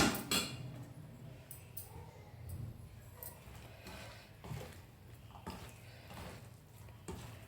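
Bitter gourd chips are tossed with spices in a bowl, giving soft scraping and light clinks of a utensil against the dish in a quiet kitchen, with a sharper knock at the start and irregular gentle stirring after.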